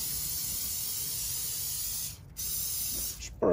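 Extra virgin olive oil sprayed onto raw turkey skin, a steady close hiss lasting over two seconds, then briefer bursts with short pauses between.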